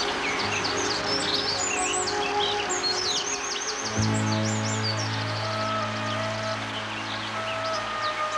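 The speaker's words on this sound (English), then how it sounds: "this bird with a white chest, known as the white-throated dipper" A white-throated dipper, the white-chested European dipper, calls in a busy riverside chorus of repeated high chirps and trills, with a steady water-like roar rising underneath partway through.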